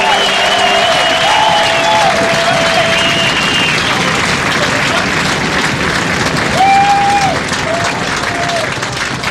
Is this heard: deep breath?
no